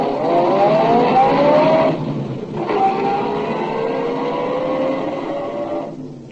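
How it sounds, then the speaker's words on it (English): A car engine in a radio detective drama pulls away, its tone rising through two gear changes with a brief dip between, loud and steady before cutting off abruptly near the end. "I drove down to the shop of Clifford Franklin, the stamp dealer"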